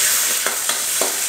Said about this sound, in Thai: กุ้งครับเราไปผัด